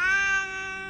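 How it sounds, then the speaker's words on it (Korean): A cat's crying meow rings out in a single sustained, strongly tonal wail, loud at first and then slightly fading, with no talk. "어디선가 고양이 울음소리가 들려왔다."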